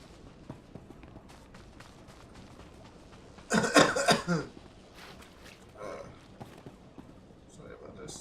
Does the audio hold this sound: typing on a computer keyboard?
no